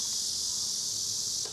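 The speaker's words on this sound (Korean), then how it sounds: "매미 정말 시끄럽네요." Cicadas drone loudly at a summer campsite, a dense, steady high-pitched buzz that fills the whole moment without pause.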